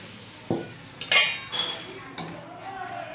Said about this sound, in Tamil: இல்லை ரவையை வறுத்துக்கலாங்க.